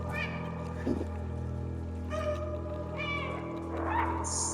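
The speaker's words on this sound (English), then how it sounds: "So you can get a trophy for meowing 100 times." A cat meows a few times in the video game Stray, set in a post-apocalyptic world, short mewing calls spaced out over a steady droning game soundtrack, with faint voices in the background.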